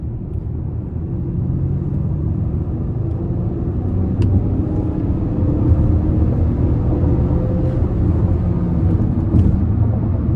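2026 Lincoln Nautilus Premiere II AWD with a 2.0-liter turbo four accelerating on the interstate, heard as a steady low cabin rumble of engine and road noise that swells slightly over about ten seconds, muted and even.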